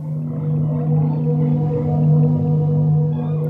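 Whale calls echo underwater as long, sustained droning moans with rich layered tones, steady and loud throughout with no voices.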